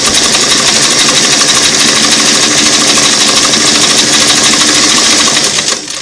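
A Singer Model 338 sewing machine runs a single-needle zigzag stitch at speed, giving a loud, steady mechanical whir and rapid clatter with no break, easing off right at the end.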